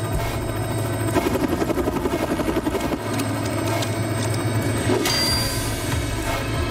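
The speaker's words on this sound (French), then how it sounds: "Faites atterrir cet hélicoptère" A helicopter's rotor thumps steadily and loudly, a continuous close drone with a rhythmic chopping pulse throughout.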